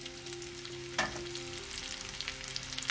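Onions fry in butter in a pan for a veg kofta biryani, giving a continuous close sizzle with a brief stirring scrape partway through.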